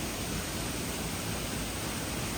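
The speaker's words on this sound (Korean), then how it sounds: "시원하게 물줄기가 쏟아지고 있더라고요" A waterfall pours in a city park in Gwangmyeong, a steady broadband rushing roar that stays constant and even throughout with no breaks or voices.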